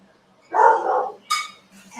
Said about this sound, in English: That dang dog.